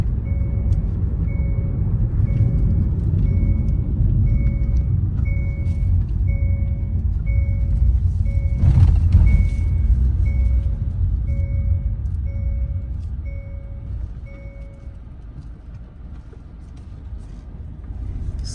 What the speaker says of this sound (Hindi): ये टन टन टन बोलने के जो सीट बेल्ट अलार्म वार्निंग है, ये हमेशा बजता रहता है।